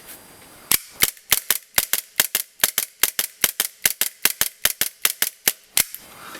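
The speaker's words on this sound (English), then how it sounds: "I can actually feel and hear that every shot is very consistent. The blowback is also very consistent itself." A Marui G17 airsoft pistol with custom modifications fires about two dozen sharp, evenly spaced blowback shots in rapid succession, each a crisp loud crack with a clacking slide, with no talking.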